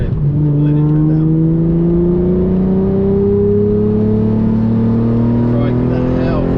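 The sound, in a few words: sports car engine revving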